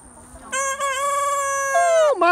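A rooster on a small farm crows once in a loud, close call that holds a long drawn-out note for about two seconds and then drops off sharply at the end.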